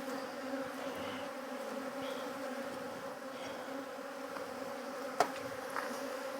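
Honey bees buzz steadily at a beehive, a dense continuous drone of many insects close by, with a brief knock partway through and no talking.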